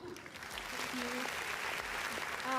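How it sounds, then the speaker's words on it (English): Applause from the audience at a UAAP Season 88 basketball press conference, a steady wash of clapping lasting a few seconds with faint background voices. "A round of applause for Ms. Risa Gilas."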